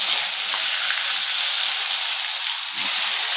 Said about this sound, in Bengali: পটেটোগুলো ফ্রাই হয়ে গেছে